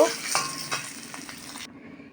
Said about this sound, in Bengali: ডিমটা আস্তে করে আমি লাল লাল লাল করে একটু ভেজে নেব